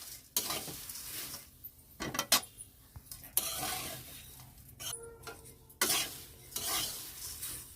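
Flattened rice (chira) with spices is fried and stirred in a pan. Bursts of scraping and clinking from a utensil break up a soft sizzle, irregular and close, with no talking.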